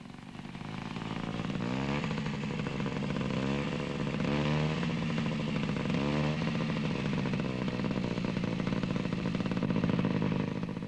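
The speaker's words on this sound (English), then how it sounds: "this Italian scooter is fitted with a specially designed dual control to make learning to ride safer on the highway" A 1962-era Italian scooter with dual learner controls rides along a highway, its small engine buzzing steadily and close with slight rises and falls in pitch as it revs.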